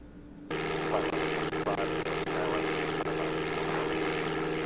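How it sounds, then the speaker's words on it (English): A steady aircraft engine drone from DOS Flight Simulator 5.1 switches on abruptly after a brief quiet moment, then hums evenly and loudly with a constant propeller buzz. "I can't change the volume of the actual engine."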